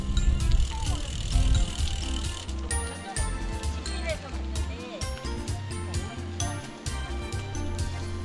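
A mountain bike rolls along a lakeside trail near Daecheong Dam, its freewheel ticking and its gears clicking close by, with rustling trail noise and voices talking over the riding.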